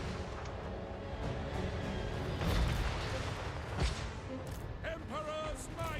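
Cannon artillery fires in a Total War: Warhammer 3 battle, heavy booms rolling over dense battlefield din while unit voices shout commands throughout.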